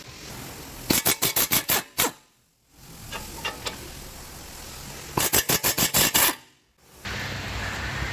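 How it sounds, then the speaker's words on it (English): An air impact gun hammers on 17 mm brake caliper bolts on a 2015-2022 Lexus RC350 F-Sport, firing two loud rapid bursts of ratcheting blows separated by short pauses and compressor hiss. "I'm going to grab my socket and my air gun. We're going to remove that."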